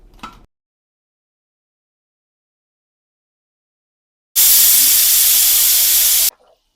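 A pressure cooker holding jackfruit bursts into a loud, steady hiss of escaping steam that lasts about two seconds and then cuts off sharply, close by, after near-silence, with no talking.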